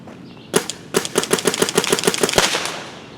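An Emek MG100 paintball marker fires a rapid string of about a dozen evenly spaced sharp pops, close and loud, ending in a heavier final shot.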